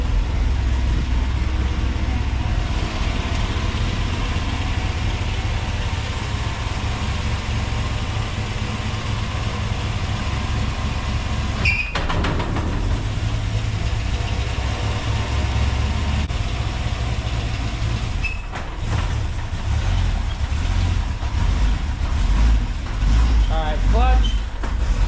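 A 1968 Chevrolet Suburban engine runs loudly and steadily as the truck pulls off. Its low rumble is continuous, with a few clunks and rattles near the end.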